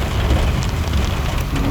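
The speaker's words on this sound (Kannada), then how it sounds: "ಈ ಕಡೆ ಮಳೆ ಪೂರ್ತಿ ಸ್ಟಾರ್ಟ್ ಆಗೈತೆ, ನೋಡ್ತಾ ಇರ್ಬೋದು" Heavy monsoon rain pours down at KR Market in Bangalore, a dense and steady close-up hiss of drops hitting the street and roofs, with no one talking.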